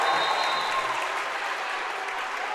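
A crowd at a high school boys basketball game applauds steadily, a dense wash of clapping that holds at a fairly even level throughout, with no talk standing out above it.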